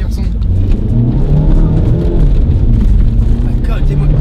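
A TDI diesel car accelerating, heard from inside the cabin as a loud, steady low engine drone with rising tone, while people talk over it.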